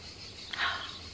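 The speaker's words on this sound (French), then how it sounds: "Les cigales, c'est trop bien." Cicadas buzz steadily in the background around 1 pm on a very hot day in France, with a brief louder swell of shrill chirping in the middle, outdoors with no talking.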